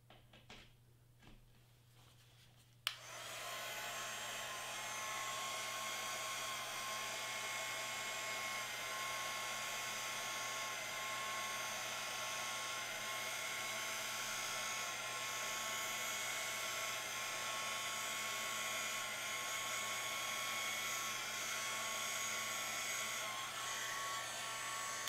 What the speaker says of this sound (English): I'm gonna use my little dryer thingy.